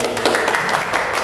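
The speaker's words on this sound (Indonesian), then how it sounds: "Tepuk tangan untuk Alaska" An audience applauds the Alaska alumni program during a school podcast, a brief burst of dense clapping that stays close and loud throughout.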